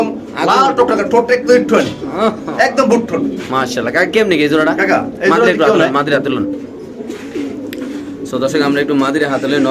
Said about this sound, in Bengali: এই যে নরের ডাক